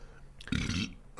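A person belches once, a single loud close guttural burp lasting under half a second amid a quiet room with faint background chatter.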